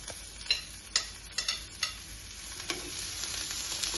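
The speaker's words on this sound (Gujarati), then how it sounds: "એની અંદર આપણે નાખશું કેપ્સિકમ. કેપ્સિકમને થોડી વાર સોતરી લેશું." Capsicum sautés in a little oil for vegetable cutlets, giving a gentle sizzle with irregular spatula taps and scrapes against the pan, close and fairly quiet.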